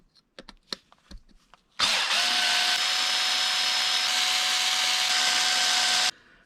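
A cordless power drill runs a long, steady whine while backing out the four screws on an RC car's custom fan guard, preceded by a few sharp clicks and taps of handling.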